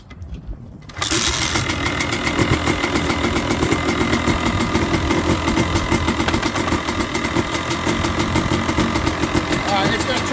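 A KTM two-stroke engine fires up after a second of quiet and keeps running loud and steady, its buzzy idle holding close and constant to the end.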